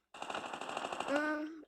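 A short rapid burst of automatic gunfire in a video game, evenly spaced shots ending in a ringing tail, fairly faint.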